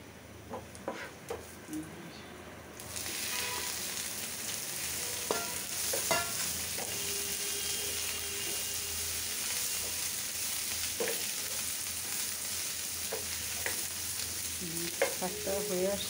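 Bagar (tempering) hitting hot oil for boiled bottle gourd greens (lau shak), a steady close sizzle that swells after a quiet start and continues throughout, broken by occasional stirring clinks and scrapes.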